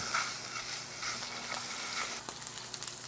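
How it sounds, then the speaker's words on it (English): Chorizo frying in a pan on a wood-fired grill, a steady soft hiss and crackle, with a few clinks and scraping stirs near the end. "I'm gonna break this down and cook my chorizo all the way through."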